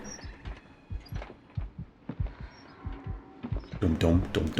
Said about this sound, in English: Heartbeat sensor.